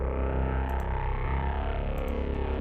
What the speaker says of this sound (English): So I did this with the distortion, put it on bipolar mode.